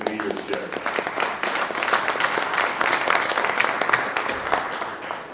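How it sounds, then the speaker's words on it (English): Steady applause from a crowd, many hands clapping densely and evenly for several seconds with a faint murmur of voices mixed in. "I want to give James Sanders a round of applause for his great leadership."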